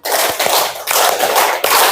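A roomful of pupils claps a rhythmic pattern in loose unison, with dense, loud bursts of clapping broken by brief pauses between groups and no voices.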